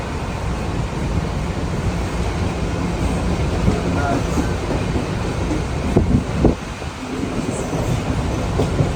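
A train rumbles steadily along the rails, with clattering wheel noise and a few brief squeaks and knocks; no one speaks.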